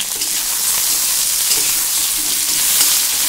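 Pieces of eggplant and potato fry in a pan with onion, giving a loud, dense, continuous sizzle close by with no voices over it.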